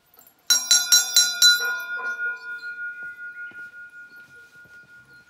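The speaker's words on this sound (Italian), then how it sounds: "perché suoni la campana?" A handheld bell rung to ward off bears on the Magome–Tsumago hiking trail in Japan, a few quick bright clangs close by, then a long ringing tone fading away.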